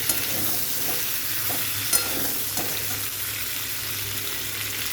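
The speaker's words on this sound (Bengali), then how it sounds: "চিকেনটা ভাজা হয়ে গেছে এরকমভাবে ভেজে নিতে হবে" Chicken frying in a pan gives a continuous close sizzle of oil with occasional louder pops and the scrape of stirring, steady and even for the whole stretch.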